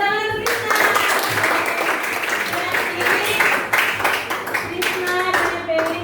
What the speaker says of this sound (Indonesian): Oke, tepuk tangan untuk Krisna